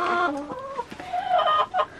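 Hens cluck in a coop on a homestead in Canada, several close, soft calls rising and falling in quick, irregular bursts with no talking.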